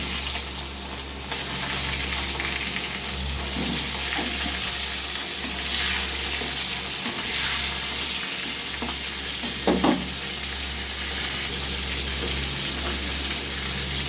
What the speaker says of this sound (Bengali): এবার আমি বেগুনগুলো ভেজে নিচ্ছি।